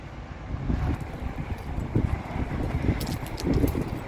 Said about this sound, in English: But it's getting windy